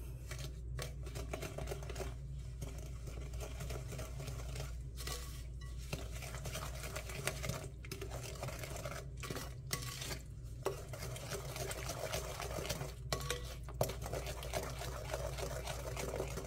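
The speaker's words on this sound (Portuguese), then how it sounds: "Vou mexer bem." Cornstarch cookie dough with margarine is stirred in a bowl, a continuous soft scraping and rubbing over a low steady hum.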